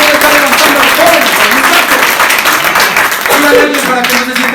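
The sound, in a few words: congregation applause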